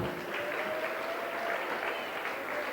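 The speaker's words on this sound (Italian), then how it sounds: "Eccoli, applauso signori, dai" Steady, dense applause from a gala audience at a wedding fashion show as a bridal couple is presented, a continuous wash of many hands clapping with no voices over it.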